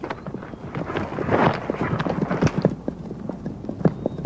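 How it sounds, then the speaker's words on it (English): Horses walking on a mountain trail during a rescue ride, hooves clip-clopping in a steady uneven rhythm, fairly close, with some wind noise. "Matt, take the reins, walk these horses!"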